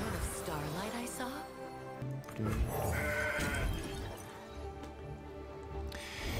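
A goat bleats from the Legends of Runeterra card game, a wavering cry early on, then crashing card effects and game music while someone talks over them.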